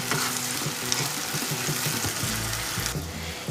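A tomato, garlic and ginger paste for Kashmiri chicken masala sizzles and fries in a pan, with a steady dense crackle and scraping stirs throughout, close and alone without talk.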